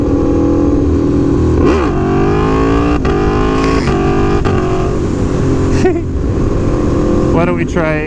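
An Aprilia Tuono V4 Factory motorcycle accelerates hard in second gear, its loud close engine climbing in pitch through rising revs, with quick throttle blips and drops near the end and a voice speaking over it.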